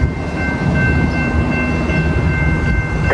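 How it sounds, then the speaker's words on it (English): A non-stopping train rushes through a LaVergne station, a loud continuous roar with rumbling wheels and a faint steady tone on top, close by and filling the whole moment. "Train approaching your station will not stop"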